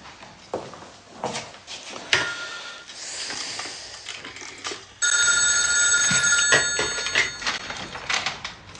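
An old-style telephone bell rings in a quiet French household, starting midway with loud, sustained metallic trilling over faint clatter of dishes and movement.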